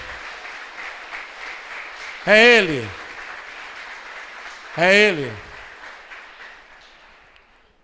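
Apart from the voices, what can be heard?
congregation applause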